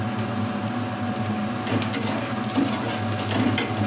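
Spices and chopped onion being stirred in a pan for rui fish curry, with repeated scraping and clinking of a utensil against the pan over a low, steady sizzle, close and fairly loud.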